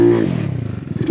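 A GY6 scooter engine with a plug-and-play EFI setup and ProHarness wiring on a Ruckus, giving a short loud rev that drops into a fast pulsing idle, close up.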